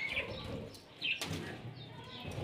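Pet finches fed bits of roti flutter their wings in quick, soft bursts, with faint chirps and cooing around them and no talk.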